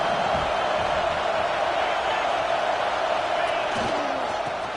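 Stadium crowd roaring steadily in a college football video game as the defense holds near the goal line, a dense, continuous wall of cheering noise throughout with brief louder swells.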